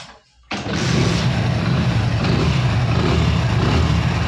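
A Hero Splendor motorcycle with new clutch plates and timing chain and a pickup fault starts after a brief silence, then settles into a loud, steady, rough engine idle close by.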